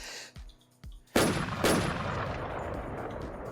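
Sniper rifle fire in the video game Rust: a pair of loud, sharp shots with long rolling echo tails, preceded by lighter clicks of handling.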